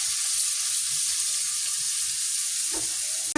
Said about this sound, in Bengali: এগুলো এইভাবে ভেজে নেব।